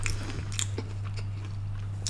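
A few crisp crunches from biting into crispy fried chicken, close up over a steady low hum.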